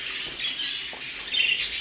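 Budgerigar chirps and chatter at an exhibition aviary, a steady bright twittering that grows a little louder near the end of the short stretch.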